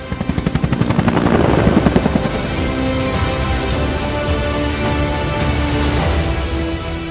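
A CAL FIRE aerial firefighting helicopter flies overhead with a loud, rapid rotor thumping that swells as it nears, then settles into a steady, close, buzzing roar.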